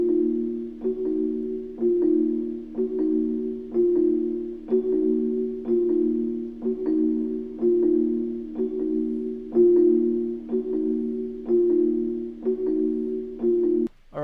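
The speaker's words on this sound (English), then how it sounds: "first sound that I used is this little Celesta from Mallet Flux in Contact." A dark trap melody played on a celesta patch from Mallet Flux in Kontakt, repeating bell-like notes in a steady looping rhythm, clear and alone with no voices.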